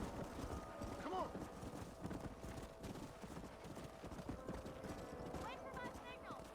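Horses' hooves clip-clop steadily through the Red Dead Redemption video game while a herd is driven up a canyon, with a brief whinny and speech over the top.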